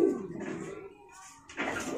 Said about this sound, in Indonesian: Oke, kita langsung aja tengok merpatinya